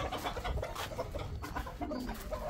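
Desi chickens clucking close by in a backyard cage area, a steady run of short, busy clucks and calls with no voices over them.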